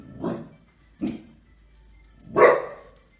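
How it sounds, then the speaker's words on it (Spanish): Three sharp dog barks ring out in a quiet indoor room, two short ones close together followed by a louder, longer bark after a pause. "Perdón por mis perros."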